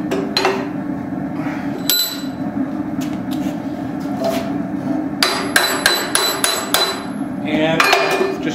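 Hammer forging open the jaws of a hatchet held in a vise, sharp metallic blows striking in an irregular series over a steady background hum, with a quick cluster of ringing strikes near the end.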